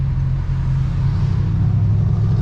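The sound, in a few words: big truck driving in traffic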